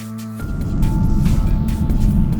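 A 2022 Honda HR-V 1.5-litre turbo, 1.5V spec, on the move in Sarawak, Malaysia: a broad, steady cabin drone of engine and road noise swells in after a brief quieter start and holds evenly throughout.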